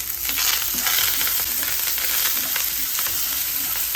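Sambar onions (shallots) and curry leaves sautéing in hot oil in a pan for a cucumber and drumstick curry, producing a loud, continuous close-up sizzle with faint stirring crackles throughout.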